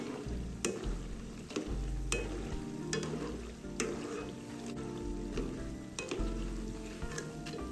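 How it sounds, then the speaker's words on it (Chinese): Dried shrimp rolls deep-frying in oil over medium-low heat, with a steady bubbling sizzle and repeated sharp clicks and scrapes from a utensil stirring the pot. "一直油炸至虾皮卷金黄色为止"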